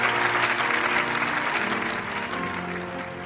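A wedding celebration crowd gives dense, warm applause for the newlyweds, a sustained even roar of many hands, loud and continuous for the whole moment.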